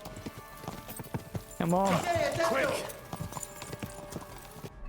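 Galloping hoofbeats from Kingdom Come: Deliverance II keep up a steady rhythm while a horse whinnies loudly, and a person speaks urgently over the action.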